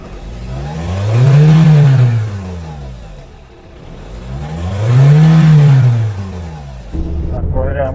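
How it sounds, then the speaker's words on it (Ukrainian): A 2007 Mitsubishi Outlander 2.0 engine revs up twice in long swelling sweeps, rising and falling in pitch, with a whooshing turbo character from an overboosting turbocharger; brief mechanical noise at the end. "Тепер турбіна почала дути."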